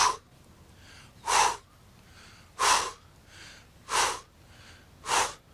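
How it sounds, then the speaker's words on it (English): Four forceful, breathy exhales come at an even pace about every 1.3 seconds during a quarter squat thrust exercise, each a short sharp puff close to the microphone with quiet pauses in between. "Every time you come up, you exhale."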